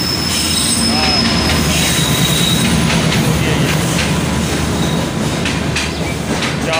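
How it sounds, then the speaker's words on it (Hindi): Passenger train pulling into a station in Karachi, with loud continuous rumbling, clattering wagons and high squealing wheels filling the whole stretch, close and steady. "ये आ गई नाज़रीन ट्रेन, ये आ गई।"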